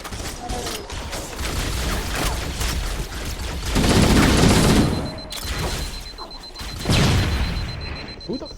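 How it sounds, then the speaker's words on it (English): Gunfire crackles and booms through a Halo: The Master Chief Collection co-op firefight, with loud bursts swelling around the middle and again near the end, mixed with mechanical clatter and game noise. "Who the fuck is still shooting me?"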